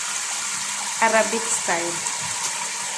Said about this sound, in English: this is the water for cooking shorba